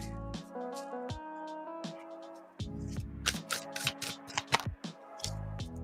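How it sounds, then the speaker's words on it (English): A deck of tarot cards is shuffled in repeated bursts of riffling and flicking, close and fairly quiet, with short pauses between shuffles and no talking. "It's very hard to shuffle with a cat in your lap glaring at you."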